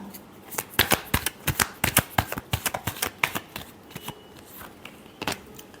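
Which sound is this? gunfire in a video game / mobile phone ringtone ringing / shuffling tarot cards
shuffling tarot cards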